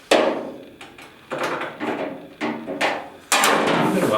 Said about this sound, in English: I just use a ball peen.